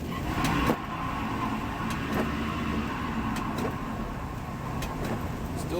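An old car accelerating hard on a wet road, wheels spinning before gaining traction; steady loud engine and road roar with hiss from the wet surface and a few brief clicks, no talk.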